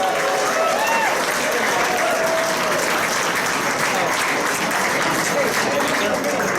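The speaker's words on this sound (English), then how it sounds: "Please give them a warm round of applause." A large crowd at a gala in Orlando applauds loudly, a dense, continuous wash of clapping that holds steady throughout, with faint voices mixed in.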